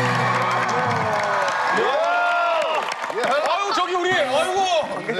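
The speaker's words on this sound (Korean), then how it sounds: "관객들마저도 기립박수를 보내주고 있는데" A theatre audience on a Korean music stage show rises in a standing ovation, loud clapping and cheering swelling under continuous music and voices.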